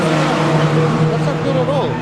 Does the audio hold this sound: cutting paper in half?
no